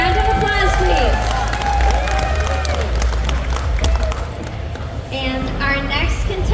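Audience applause and cheering from a crowd at a pinup pageant held at a tattoo expo, steady and loud throughout, with whoops and crowd babble mixed in.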